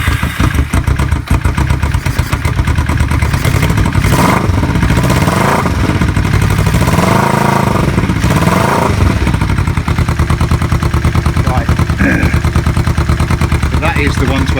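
A bobber motorcycle engine runs on choke, a loud close rapid thumping idle with revs rising and falling a few times, and it continues throughout.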